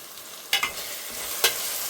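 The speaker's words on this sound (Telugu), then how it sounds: "ఇది కొంచెం సేపు వేగితే సరిపోతుంది." Ginger and garlic sizzle in a pot for mutton curry, with a spoon stirring through: a soft steady fry broken by a couple of sharp scraping clatters near the start and one more later, close up and without talk.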